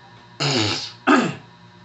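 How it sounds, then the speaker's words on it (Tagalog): A person coughs and clears their throat in two short, harsh bursts close to the microphone while working on a computer repair. "pasensya na, medyo inuubo pa tayo."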